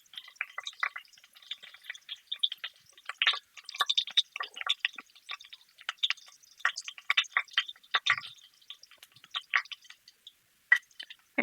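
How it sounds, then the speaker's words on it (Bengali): Whole dried red chillies frying in oil in a pan, a soft, scattered crackle and sizzle of small pops, close but quiet, with no voice. "এখন আমি এখানে শুকনো মরিচ 3 পিস আস্ত দিয়ে দিলাম। এখন আমি এগুলো ভেজে নেব।"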